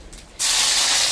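After a brief quiet moment, onion paste drops into hot mustard oil and bursts into a loud, bright, sustained sizzle that stays close and even to the end.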